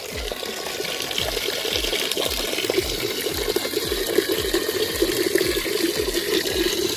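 Tap water pours steadily into a drum, a continuous close splashing rush with a gurgling, filling texture that holds at an even level throughout, with no voices.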